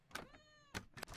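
Faint, thin cat meows in the horror video game Avarice, a wavering tonal cry between soft clicks and knocks, heard alone at low level.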